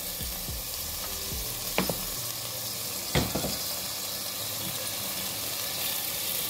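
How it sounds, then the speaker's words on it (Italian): Vegetables sauté in a pan for a zucchini and sausage risotto, a constant bright sizzle with a few stirring scrapes and clacks rising above it, close and steady throughout. "Qui sta continuando a soffriggere"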